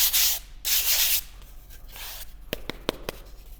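A climbing hold being sanded with two long, loud rasping strokes, followed by softer rubbing and several sharp taps and clicks close by.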